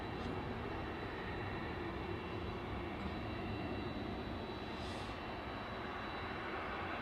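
A Boeing 767 freighter at East Midlands Airport at night, heard as a faint, steady jet rumble in the distance with a constant broad hiss and no nearby voices.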